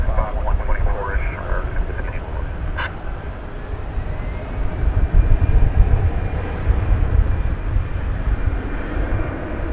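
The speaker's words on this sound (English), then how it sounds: "Cessna 560 XL Citation XL" A Cessna 560 XL Citation XL business jet passing at night at DFW Airport: a steady, broad jet roar that swells slightly midway, fairly loud, with brief voices early on.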